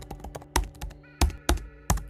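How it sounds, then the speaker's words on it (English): Fingers tap quickly on a computer keyboard, a burst of irregular clicks with several sharper, louder key strikes spaced through the stretch, close and dry with no voices. "I'm usually bad with the keyboard. I type fast"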